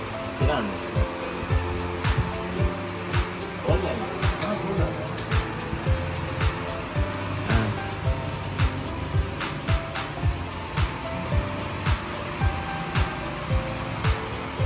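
An old electric fan bought in Pakistan runs with a steady whirring hum and a regular knocking tick about every half second as it wobbles, close and moderately loud.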